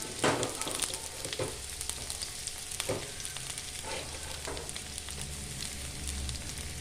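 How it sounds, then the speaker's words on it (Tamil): Onion and green chili fry in a pan for a semiya dish, a steady crackling sizzle with occasional louder pops and stirring scrapes, fairly close and without talk. "இப்போ வெங்காயம் பச்சை மிளகாய் போட்டு வறுத்துக்கலாம்"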